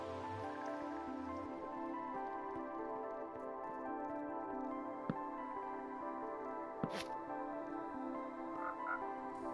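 Frogs croaking steadily in Minecraft, a dense continuous chorus of overlapping croaks with a couple of brief clicks, no talking.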